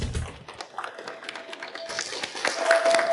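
Audience applause welcoming the head of Shuanglong Group to the stage at a jewelry competition event, a short burst of scattered clapping from a crowd.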